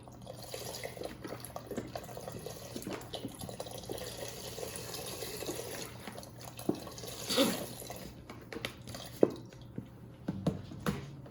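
Vegetable broth poured into a pot, a soft continuous liquid trickle with occasional drips and small clinks, close and fairly quiet over background hum.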